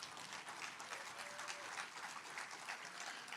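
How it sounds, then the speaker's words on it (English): An outdoor bandstand audience at a cello concert claps steadily, a dense patter of applause that holds evenly throughout at a modest distance. "Give yourselves another round of applause."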